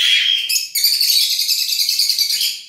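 A caged songbird sings loudly and close by, pouring out a continuous stream of high, bright trills and chirps with no pause and no talking.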